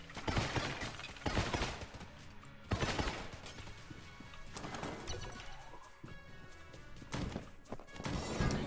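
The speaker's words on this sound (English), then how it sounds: "the shots of this gun sound like Galaga or Space Invaders" Gun shots in Enter the Gungeon come as chaotic bursts of rapid firing and crashing impacts, loud clustered volleys with brief lulls and no speech.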